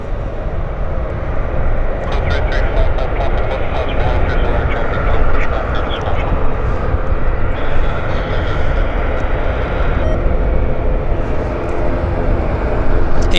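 A steady, loud roar of airliner jet engines rumbles at Vancouver Airport, continuous broadband noise from aircraft nearby, with people talking over it.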